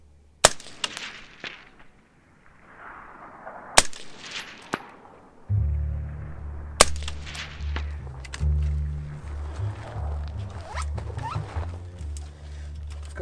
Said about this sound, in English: Then we'll shoot a couple more.